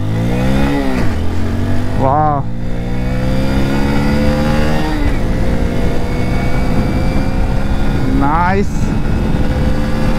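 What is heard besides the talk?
Hero Passion Plus 100 motorcycle accelerating, checking initial pickup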